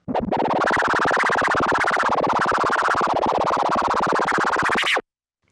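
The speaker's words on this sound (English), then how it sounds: "you can say this is the scribble scratch" A rapid, buzzing scribble scratch on a turntable, a fast continuous back-and-forth stutter lasting about five seconds before cutting off abruptly.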